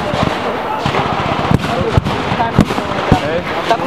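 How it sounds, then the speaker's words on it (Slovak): Explosive charges and gunfire at a German bunker during a Soviet assault in a WWII battle reenactment at Starý Tekov, heard as several sharp, loud bangs about half a second apart over constant crackling shots, with voices in the background. "Letí tam nálož."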